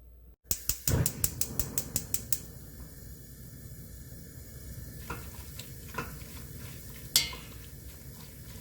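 Soaked seaweed and oysters stir-fried in plenty of perilla oil with soup soy sauce, opening with a quick run of sharp spoon-on-pot clacks, then low sizzling with scattered scraping knocks and one loud clank near the end.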